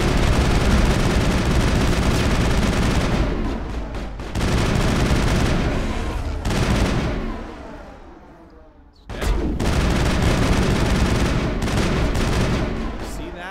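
Loud, dense bursts of rapid gunfire rattle through a Mass Effect firefight. The shooting eases into a brief lull midway, then picks up again at full intensity.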